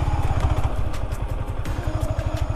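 A motorbike labors through river sand with its rear tyre losing grip, the engine thudding in a rapid, uneven rhythm close up, with faint rattling above, and no one speaking over it.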